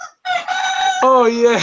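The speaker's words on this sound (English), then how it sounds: "you are hearing the roosters right now." A rooster crows once, close and loud, in a long strained call that shifts pitch partway through, with a brief spoken remark just before it.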